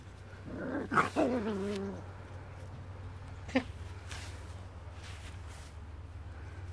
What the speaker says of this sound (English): Come on, dogs.